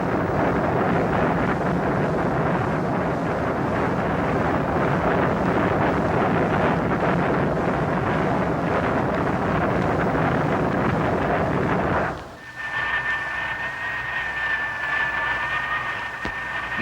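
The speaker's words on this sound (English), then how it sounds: "This Curtiss-Wright rocket motor could move a modern battleship at high speed" A Curtiss-Wright rocket motor for the X-2 roars during a ground test, a loud, steady, broadband rush that holds for about twelve seconds before abruptly dropping to a quieter hiss with a thin whine.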